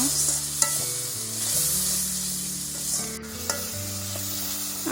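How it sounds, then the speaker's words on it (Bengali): Ginger-garlic paste water hisses in a hot pan as spices are sautéed, a continuous close sizzle with occasional stirring scrapes and a low background hum, no voices. "আমি আদা রসুনের পেস্ট করা পানিগুলো দিয়ে দিব কষানোর জন্য"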